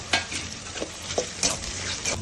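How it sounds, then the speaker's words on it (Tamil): Onions sauté in a pan for chicken gravy with a steady close sizzle. Several light scrapes and clinks of a stirring spoon sound at irregular intervals over it. "வெங்காயம் வதங்கிடுச்சு. ரொம்ப வதங்க."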